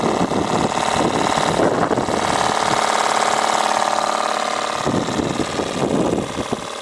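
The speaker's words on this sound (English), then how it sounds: "this twin drum Stuart boiler is absolutely fantastic" A model steam engine fed by a Stuart twin drum boiler runs steadily at close range, a continuous loud mechanical chuffing hum with fine rapid beats, engine-like and unbroken across the whole stretch.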